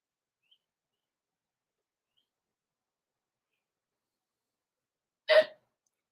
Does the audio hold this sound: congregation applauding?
no